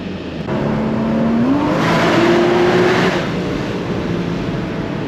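A Porsche Boxster with a PDK gearbox revs up, its engine note climbing and holding in a loud, close, steady drone, then burbling and easing off, with no talk over it.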